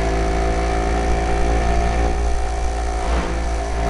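In the mobile racing game Moto Real 3D, a motorcycle runs at full throttle on a highway, its engine a steady, loud droning hum with a constant pitch throughout and no talk.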